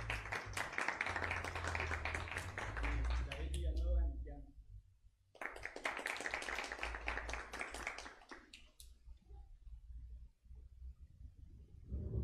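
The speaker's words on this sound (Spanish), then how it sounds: "un aplauso para él" Applause from a jazz concert audience honoring the trio's drummer, dense clapping that swells, breaks off briefly, then resumes before fading out.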